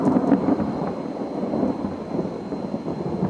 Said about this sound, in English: you guys can probably hear it is currently thundering.